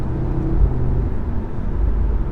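Audi RS3 engine and exhaust under way, a deep, steady low rumble from inside the car, fairly loud and continuous, with no talking.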